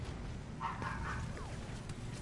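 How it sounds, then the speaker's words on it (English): A dog barks a few times at moderate distance in a couple of quick yips, faint against a steady background hum from a video game session. "That doggy is loud."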